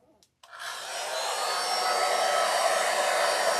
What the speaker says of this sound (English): So let me just shoot these a minute with the hair dryer